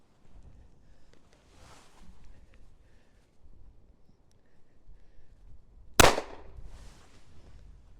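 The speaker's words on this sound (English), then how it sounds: "Shooting at the Premier body armor from about 7 to 10 yards away." A single sharp .357 Magnum gunshot is fired at Premier body armor from about 7 to 10 yards, cracking loudly and briefly against quiet outdoor background noise.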